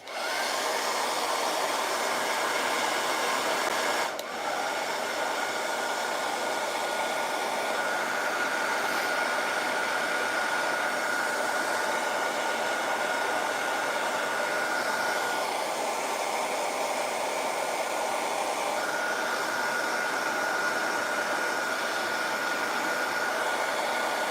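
Plastic action figure hands warmed with a heater: a steady, loud blowing whir holds for the whole stretch with only slight changes in tone and no talking.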